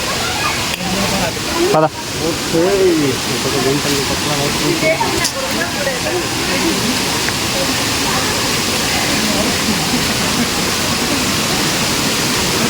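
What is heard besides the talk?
Durgapadu waterfall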